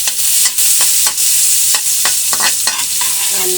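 Garlic and onion sauté in a hot pan, a steady close sizzle broken by repeated scraping stirs every half second or so, with no voices.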